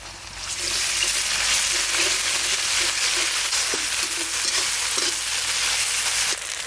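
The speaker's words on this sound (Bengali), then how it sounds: "ওই তেলেই ফোড়ন দিয়ে দেবো গোটা জিরে, দিয়ে দেবো কুচনো পেঁয়াজ আর কাঁচা লঙ্কা, দিয়ে দেবো আদা রসুন বাটা" Cumin, chopped onion, green chilli and ginger-garlic paste frying in oil, a loud, dense, continuous sizzle close up with faint stirring knocks beneath it, no talking.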